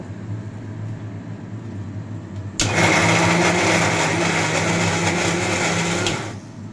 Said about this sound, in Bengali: মিক্সির মধ্যে আমি ওই চিকেন ভাজাটা দিয়ে দিয়েছি, দিয়ে এবার এটাকে একটু গ্রেট করে নেব